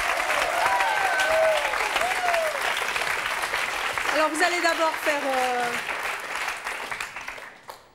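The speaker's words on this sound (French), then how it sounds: "Accompagnez votre mari, on peut l'applaudir." A TV studio audience at a French talk show applauds a husband called up to do household chores. The sustained clapping under a host's talk fades out toward the end.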